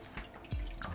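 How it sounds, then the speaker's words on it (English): Faint water drips and trickles splash near an aquarium filter packed with sponge and filter floss, a few close, soft drops landing in quick succession without any talking. "And I just dropped water everywhere."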